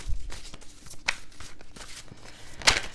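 Tarot cards are shuffled close by, a series of soft papery riffles and slaps in an uneven rhythm, with one sharper flurry near the end.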